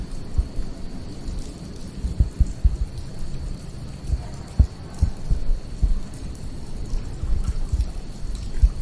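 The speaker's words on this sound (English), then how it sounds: "You can hear raining and stuff" Rain falling outside a building, a steady soft hiss under scattered low thumps and knocks, with a faint constant electrical tone running through it and no talk.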